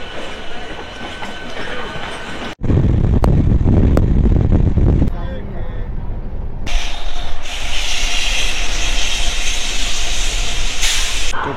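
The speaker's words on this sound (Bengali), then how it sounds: "হাওড়া স্টেশনে সকালের সব লোকাল ট্রেনগুলো এখন ক্রস করছে।" Morning local trains cross at Howrah station with loud rumbling, hissing and clattering, shifting in character as different trains pass close by, over a busy station background.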